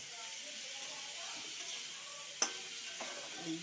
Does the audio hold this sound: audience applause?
no